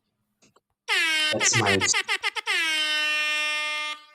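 A loud, blaring air horn sounds close up, with a few choppy stuttered blasts followed by one long sustained tone, and a brief word is spoken just before.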